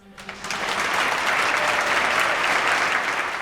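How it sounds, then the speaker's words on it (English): A rousing round of applause for the music teachers behind a children's Messiah performance: steady, dense clapping from a crowd that holds at full strength throughout. "Please join me in giving them a rousing round of applause."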